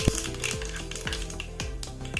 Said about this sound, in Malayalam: ചട്ടിയിൽ വെളിച്ചെണ്ണ ഒഴിച്ചിട്ടുള്ളത് എണ്ണ ചൂടായി ഒരു ടീസ്പൂൺ കടുകിട്ട്